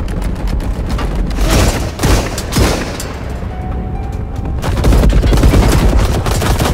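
A dense firefight in the Marauders video game, with rapid overlapping gunshots and bursts of automatic fire, loud and close throughout, briefly easing midway before heavy shooting resumes.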